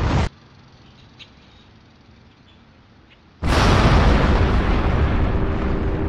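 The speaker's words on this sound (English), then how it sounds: "The nuclear explosion causes massive damage around the suburbs of Lahore" A nuclear warhead detonation erupts suddenly as a loud, broad roaring blast after a short quiet stretch, rumbling on steadily without any voices.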